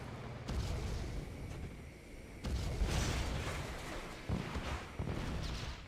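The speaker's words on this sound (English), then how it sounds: "He's got a cannon doing work." Cannon fire in a Red Alert 2 multiplayer match: repeated heavy booms and blasts over a dense game mix, with strong hits near the start, middle and end of the stretch.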